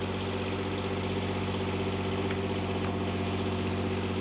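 A boat generator engine drones steadily under a 2 kW load at a constant pitch, loud and close, with a strong low hum and two brief faint clicks as the governor kicks in.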